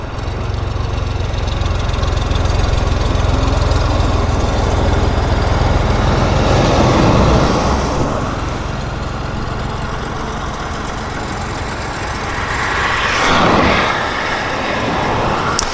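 Large USAF heavy military aircraft such as KC-135, C-5, C-17 and KC-46 arriving at Abbotsford International Airport, a steady loud low jet roar that swells around the middle and again near the end, with no talk.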